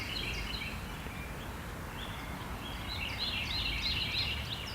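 Small birds sing outdoors, with faint, quick chirps and twitters that grow busier toward the end, set against a constant low rumble of distant ambient noise.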